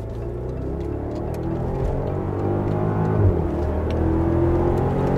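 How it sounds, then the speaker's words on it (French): Inside the cabin of a BMW X6 50i (F16) with a twin-turbo V8, a steady low purring engine note builds gradually in loudness. Partway through, a brief shift in pitch marks a gear change, and no one speaks. "on remarque la sonorité qui se fait très ronronnante à l'intérieur"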